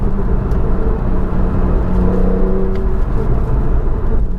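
A Porsche 911 engine hums and revs in amplified sound mode, a loud, steady low rumble heard from inside the car with a slight rise in pitch, no talking.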